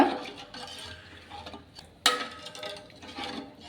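Ragi mudde being stirred steadily in a pot on the stove, a soft scraping and knocking of the spoon against the pot with one sharp clank midway, quiet and close, with no talking.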